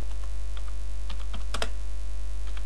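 Fingers typing a name on a computer keyboard, a run of crisp key clicks with a few louder taps, close and clear over a steady low hum.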